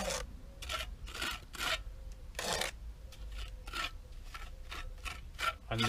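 A trowel applies mortar to concrete blocks and bricks, giving a series of short, gritty scraping strokes in uneven rhythm, close and fairly quiet, with brief pauses between strokes and no talk.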